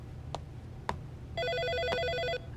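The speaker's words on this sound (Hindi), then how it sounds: "तुम फोन उठा लोगी?" A telephone rings once in a house with a bright, warbling electronic trill lasting about a second, loud and close, after a few soft knocks, with no talk.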